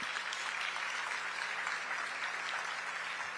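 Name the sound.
audience standing and clapping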